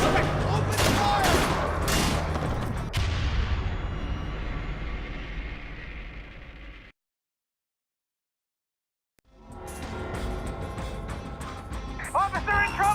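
Bursts of gunfire in the Splinter Cell: Conviction video game, loud rapid shots at first, then a fading tail, a full drop to silence and a return of sharp shots and game sounds near the end.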